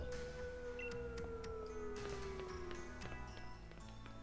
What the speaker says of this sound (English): Quite the howl, eh? Kind of a howl going on there.